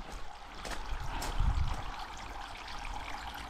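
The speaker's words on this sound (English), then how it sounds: "That sound of running water." Running water from a garden fountain set up again in a back garden in spring, a steady soft trickle and splash continuing throughout at low, even level with no talk.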